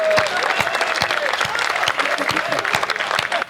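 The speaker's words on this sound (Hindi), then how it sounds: "बजा दो जरा तालियां एक बार जोरदार" Audience at a Hindi humorous poetry recital gives a dense, loud round of applause, steady and unbroken throughout, with a faint rhythmic beat of clapping running through it.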